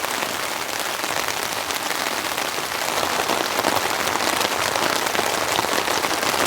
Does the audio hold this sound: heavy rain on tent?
yes